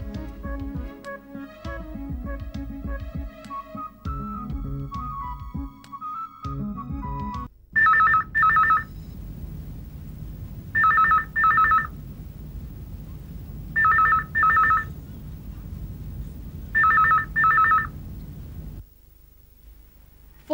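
A phone ringtone sounds in four repeated double bursts, loud and electronic, following a stretch of background music.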